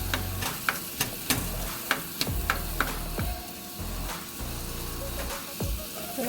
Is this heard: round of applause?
no